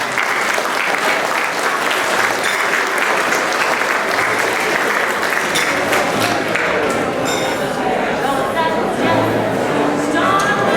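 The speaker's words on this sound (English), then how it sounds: "How about a round of applause for the food and beverage team here?" Gala dinner guests at a chamber of commerce event in a lounge give a loud, sustained round of applause for the food and beverage team, dense clapping filling the room throughout with some cheering mixed in.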